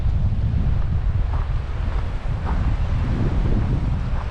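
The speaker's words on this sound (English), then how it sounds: "Windy and choppy." Strong wind buffets the microphone on the shore of Lake Alpine, California, with choppy water lapping and splashing underneath in a continuous, rough, low rumble.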